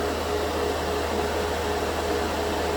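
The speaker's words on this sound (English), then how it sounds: "So you guys can see when I'm switching it to the other compressor." A portable air compressor for an airbrush runs continuously, a steady close motor drone with a faint constant whine and no change over the short stretch, no voices.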